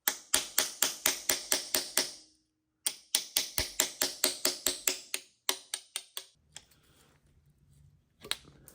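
Flat tip punch being hammered against the shoulder of an engine freeze plug on an old V8: sharp, close metallic strikes in quick even bursts of about eight, a pause, another run, then scattered taps and a little handling noise.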